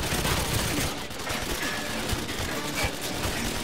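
Sustained gunfire from a weapon in GoldenEye 007 Reloaded on PS3, a dense continuous fusillade of shots throughout, loud and close with no talk over it.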